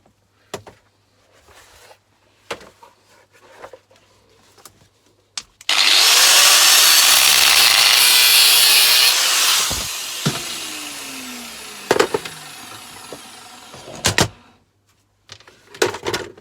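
Power tool cuts through aluminium scrap in a single loud, harsh grinding burst of about five seconds, framed by quieter clunks, taps and handling noises before and after.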